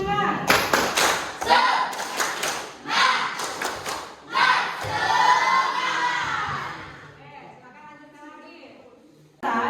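A classroom of students performs a rhythmic 'tepuk semangat' group clap, bursts of sharp unison claps and thumps in a patterned sequence, with children's voices chanting and shouting along and a teacher speaking.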